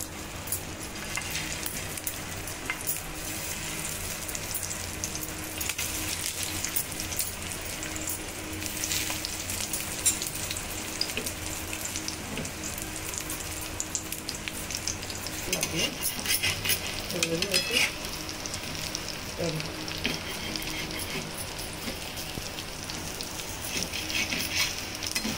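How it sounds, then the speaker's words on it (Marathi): Ragda patties (tikki) frying in hot oil in a pan, a dense continuous sizzle and crackle with occasional louder spatters and stirring, close and steady. "आणि त्या तेलामध्ये आपण या सगळ्या टिक्क्या करून घेऊ।"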